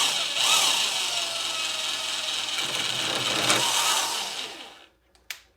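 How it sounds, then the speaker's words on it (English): A Harbor Freight drill driving a Lennox bit in a Harbor Freight tubing notcher whines and grinds steadily against a Wolfe RaceCraft mild steel tube for about five seconds, then spins down and stops, followed by a brief knock. "First test cut with the Harbor Freight drill, Harbor Freight tubing notcher, Wolfe RaceCraft tube, Lennox bit."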